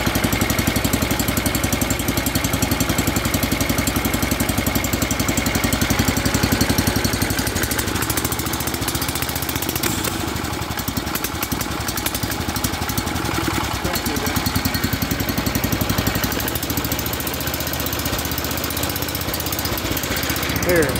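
A small engine idling roughly and unevenly, needing carburetor adjustment, a continuous loud close chugging drone that wavers throughout, with a person talking over it at times.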